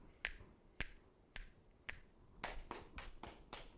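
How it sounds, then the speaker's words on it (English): Four crisp, evenly spaced finger snaps ring out alone, then a quicker run of softer pats follows, part of a third-grade classroom music rhythm exercise. "we're going to have snaps immediately followed by some pats"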